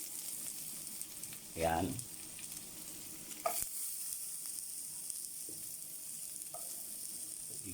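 Onion and garlic sizzle steadily in a hot pan for adobong sitaw, a soft continuous frying hiss with a brief stirring scrape and a few light clinks, under a short spoken word.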